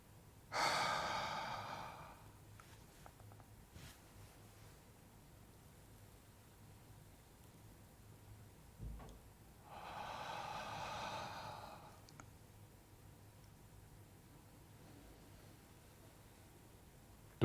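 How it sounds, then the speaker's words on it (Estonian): Deep breathing exercise in a group warm-up: a strong exhale near the start, then a long quiet pause before a second sustained breath, soft room noise in between and no talk. "Hingamine."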